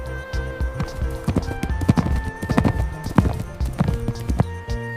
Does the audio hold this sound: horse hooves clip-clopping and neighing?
yes